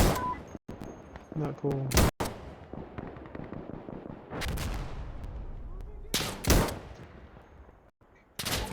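Loud, sharp gun bursts in the video game Insurgency Sandstorm, a few close shots and quick volleys with rumbling fire between them, while a player talks over the action.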